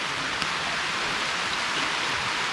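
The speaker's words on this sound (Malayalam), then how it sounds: "നല്ല മഴ" Heavy rain pours steadily and loudly outdoors in an open area with few trees, a dense, even hiss with no other sounds.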